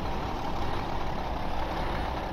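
A heavy truck engine idles in Farming Simulator 2015, a steady low rumble with a broad noisy hiss, constant and close throughout with no talk.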